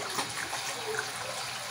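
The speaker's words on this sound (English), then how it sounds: "So now I'm just going to wash my hands." Tap water runs and trickles as hands are washed underneath, a soft steady splashing stream heard close and fairly quiet for a brief moment.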